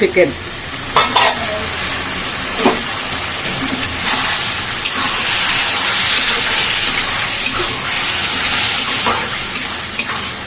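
Chicken hits a hot pan on high flame and sizzles steadily and loudly, with scattered stirring clatters and spoon scrapes over the continuous frying hiss.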